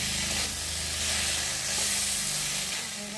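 Spices fry in hot oil before taro is added, giving a loud, continuous sizzle with soft stirring sounds that swell and ease gently throughout.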